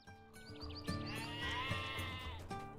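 Sheep bleat in the LOTRO video game, with several wavering, nasal calls in quick succession running over a sustained game tone.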